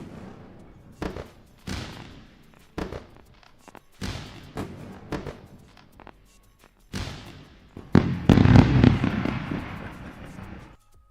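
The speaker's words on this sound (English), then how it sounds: "we're gonna give him a round of fireworks" Fireworks sound effect played during a live day-trading stream: a string of sharp bangs and crackling bursts, loosely spaced, building to a dense, loud crackling barrage near the end.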